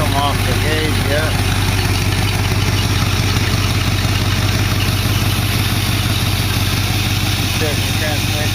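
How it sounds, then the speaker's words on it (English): A 1914 car engine runs steadily at high idle, a loud continuous rumbling drone filling the whole stretch, with voices talking over it. "Still going on the high idle."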